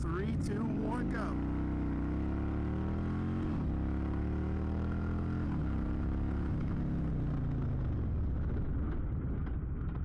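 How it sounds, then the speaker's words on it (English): An Indian Chieftain motorcycle runs a 0 to 60 acceleration and braking test. The engine note climbs steadily through the gears, loud and close, then winds down as the bike brakes to a stop. "Let's try a realistic 0 to 60 and braking test"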